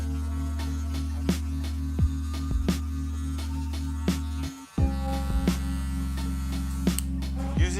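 Electric hair clippers with a number 1 guard buzz steadily during a mixed-hair fade, the lever opened and closed to shift the tone, with a brief cutoff midway before the close hum resumes.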